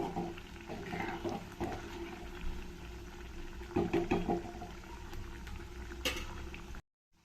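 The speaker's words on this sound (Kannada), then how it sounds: "ಅವಲಕ್ಕಿ ವಡೆಗಳು ತುಂಬ ಚೆನ್ನಾಗಿ ಫ್ರೈ ಆಗ್ತಾ ಇದೆ" Poha (avalakki) vadas topped with onion frying in hot oil, a steady loud sizzle and bubbling with crackling pops throughout, no voices.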